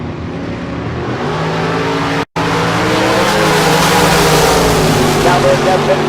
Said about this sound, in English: Head start going to that Corvette. That Nova doing the chasing. Free stage is Eric Dodge waiting on Ricky D